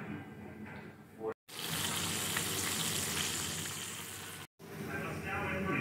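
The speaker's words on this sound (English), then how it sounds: "It's a festival, frying in the pot." Fish sizzles steadily as it fries in a pot on a kitchen stove, a dense, loud, continuous crackle broken by two brief cuts.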